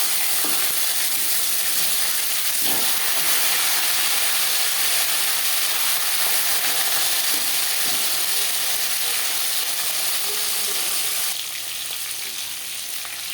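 Bhetki fish frying hard in a pan, a dense continuous sizzle and crackle of hot oil with occasional scrapes, which thins slightly near the end.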